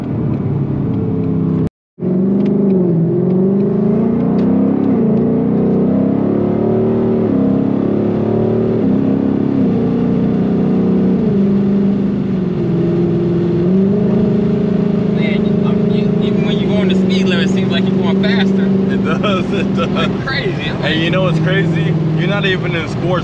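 A 2018 Mustang GT 5.0 Performance Pack V8 drones steadily from inside the cabin, its pitch rising and falling through downshift revs, with people talking over it throughout.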